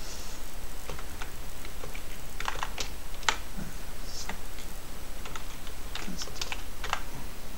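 Typing on a computer keyboard, with quick irregular clicks and taps of keys going steadily at close range against a faint background hiss, and no voice.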